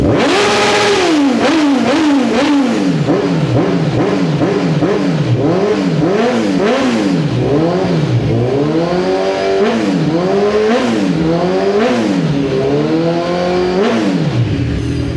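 Kawasaki Z1000 1000cc inline-four motorcycle fitted with a new exhaust, revved repeatedly past 3,000 RPM: loud, close engine rising and falling in a steady rhythm of throttle blips throughout, with no talking.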